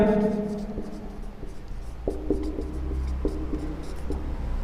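Chalk or marker scratches across a board while a math problem is solved, heard as a series of short, sharp writing strokes in irregular bursts, close by, with a voice briefly at the start.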